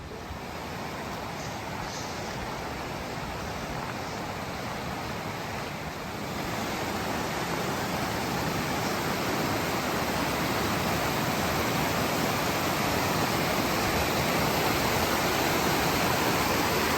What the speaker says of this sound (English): it looks like an interesting river crossing